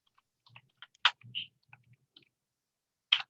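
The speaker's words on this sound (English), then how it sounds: "Even just I'm typing the famous and latest trending English song." Scattered keystrokes on a computer keyboard while a song title is typed, with irregular clicks and a few louder taps spread across a quiet stretch, close and alone.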